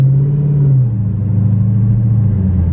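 A 2016 Dodge Challenger Hellcat, rebuilt after a salvage auction, rumbles low and steady as it pulls away at low speed, the engine note dropping slightly partway through and holding a loud, even drone.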